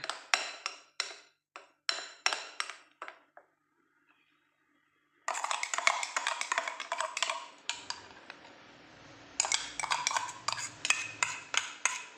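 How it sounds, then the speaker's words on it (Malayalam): Raw mango pachadi with curd is stirred in a bowl, a spoon clinking and scraping in quick bursts with a short pause between, close and fairly quiet with no talk. "എല്ലാം കൂടി നമുക്ക് മിക്സ് ചെയ്യാം"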